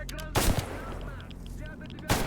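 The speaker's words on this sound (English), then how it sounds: "Grenade." Grenade blast in the S.T.A.L.K.E.R. video game: two heavy booming bursts, one near the start and another at the end, with rumbling low noise and faint chatter between them.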